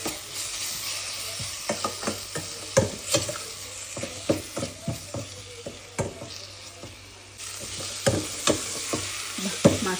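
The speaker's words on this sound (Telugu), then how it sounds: "అంతా మిక్స్ అయ్యేటట్టు ఒకసారి మిక్స్ చేసుకోవాలి" Chilli powder, salt, turmeric and garam masala stirred in a hot pan for bajji mirchi rice, with a steady frying hiss and many sharp, irregular spatula scrapes and taps against the metal.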